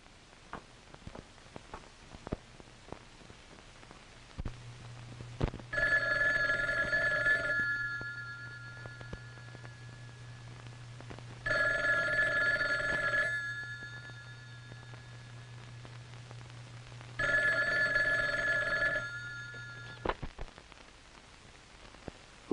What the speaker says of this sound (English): You could reach him on the telephone.